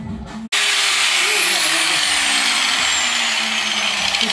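A power tool sanding bodywork metal clean on a VAZ 2121 Niva under repair, starting abruptly after a brief quieter moment and then running as a loud, steady whirring grind close by.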